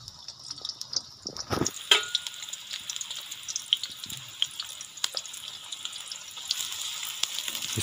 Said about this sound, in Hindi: इसके लिए सबसे पहले बर्तन में घी डालेंगे। अब इसके अंदर प्याज ऐड कर दें।